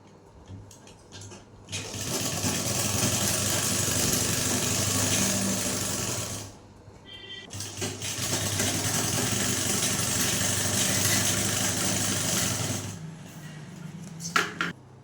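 Sewing machine stitching frill layers together for a washing machine cover, running in two long, steady, loud whirring stretches of about five seconds each, separated by a short pause, with a few clicks at the end.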